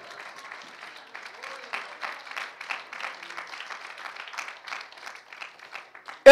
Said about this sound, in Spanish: Si quiere aplaudir, aplaude,